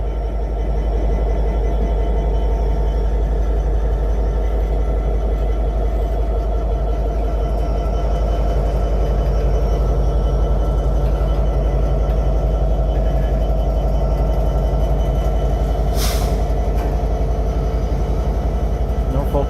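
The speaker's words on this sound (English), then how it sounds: "Got a train coming over here." A Norfolk Southern freight train rolls past at night in Hapeville, Georgia, a loud steady rumble with rhythmic wheel clatter that persists throughout.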